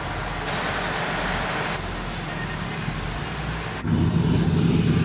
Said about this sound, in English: This is the truck, and this is the insulation that they are sucking down and then goes out and is sucked through this hose all the way in